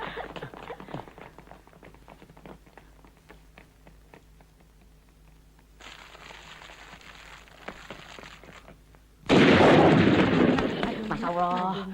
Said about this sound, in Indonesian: Dengar tuh petasan dari Holland, bunyinya juga modern, lain.